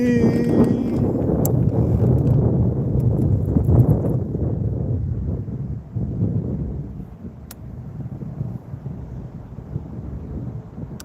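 Strong wind roars and buffets the microphone in a loud, continuous low rumble, easing somewhat toward the end.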